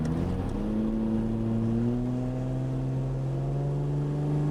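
A VL car on its first drive accelerates hard in first gear, the engine note climbing steadily in pitch as it revs, loud and close throughout with no talking.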